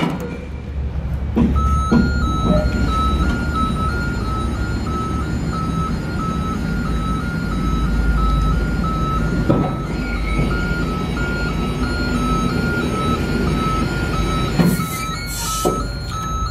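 A Raymond 520-OPC30TT electric stacker lifts, its loud motor humming steadily while a repeating warning beep sounds throughout, with a couple of sharper clicks near the end.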